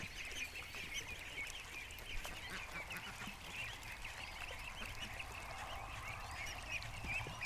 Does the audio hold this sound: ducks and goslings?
yes